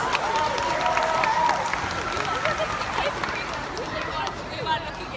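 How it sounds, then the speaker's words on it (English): Crowd applause with cheering and a busy hum of voices, loud and sustained throughout, thinning slightly toward the end. "can we give them another huge round of applause?"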